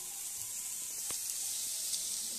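Cumin powder hits a hot pan and sets off a steady, close sizzle that holds evenly for a couple of seconds with no voices.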